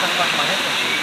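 A waterfall at a hotel pool in Mexico pours into another pool, giving a dense, close, steady hiss of splashing water that continues unbroken.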